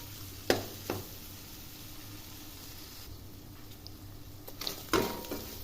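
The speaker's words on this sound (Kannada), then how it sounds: "ಅದಕ್ಕೆ ಸ್ವಲ್ಪ ಅರಿಶಿನ ಪುಡಿ, ಉಪ್ಪು, ಎಣ್ಣೆಯಲ್ಲಿ ಫ್ರೈ ಮಾಡ್ಕೊತಾ ಇದ್ದೀನಿ" Paneer fries in oil with turmeric and salt, making a soft, faint sizzle, broken by a few sharp clacks of a spoon against the pan near the start and end.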